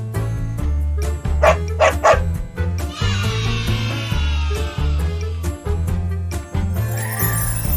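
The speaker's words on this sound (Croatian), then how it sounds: "Pas živi u kućici za pse." A dog barks in short, loud bursts against a steady bouncy children's music backing, followed by chiming jingles and a rising whistle-like sweep.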